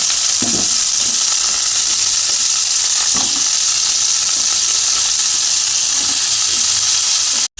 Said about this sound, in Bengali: ফুলকপিগুলোকে একটু ভেজে তুলে নেব